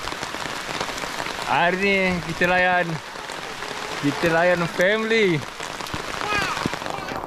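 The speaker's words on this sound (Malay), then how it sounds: "Hari ni hujan lebat" Heavy rain patters in a steady hiss during a family mountain hike on the Gap to Gunung Ghost trail in Malaysia, a continuous wash of drops while people talk over it.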